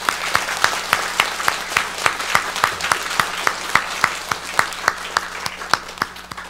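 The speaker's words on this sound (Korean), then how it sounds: "우리 하나님께 영광의 박수 한번 드리겠습니다." A church congregation gives applause in worship, clapping together in a steady rhythmic beat, each clap crisp and evenly spaced over a continuous crowd-clap wash and a faint low hum.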